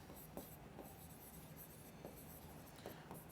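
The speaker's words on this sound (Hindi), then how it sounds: "कुछ और लिख लेते हैं।" Words are written on a board during an English grammar lesson: faint, rhythmic scratching strokes repeat every half second or so, quiet and alone without any talking.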